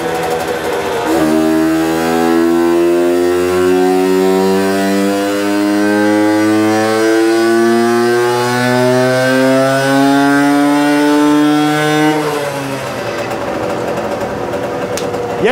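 Herkules K50 moped with a tuning exhaust, its small two-stroke engine revving hard in a long rising buzzing whine that climbs steadily in pitch, loud and close, then drops off sharply near the end.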